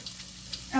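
A pan that is not non-stick crackles with soft frying while a utensil scrapes and stirs, brief quiet scratches ending as a voice begins to speak.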